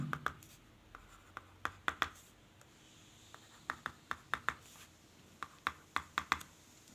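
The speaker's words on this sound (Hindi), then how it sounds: "पहले लिख लेता हूँ" Pen writing on paper, a series of short scratchy strokes in irregular bursts with brief pauses between them, close and clear in a quiet room with no talking.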